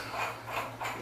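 Ratchet wrench tightening a bolt on a mini milling machine, three quick close clicking pulls in a short burst.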